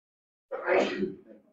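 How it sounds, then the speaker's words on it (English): A single sneeze bursts out after a moment of silence, sharp at the start and trailing off quickly, close and clear. "I might sneeze."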